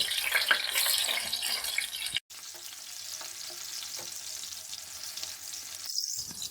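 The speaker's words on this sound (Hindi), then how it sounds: "अलट पलट कर फ्राई कर लेंगे।" Chicken gilafi kebabs sizzle steadily in a pan over a low flame and are turned over partway through, a brief dropout breaking the continuous close frying hiss.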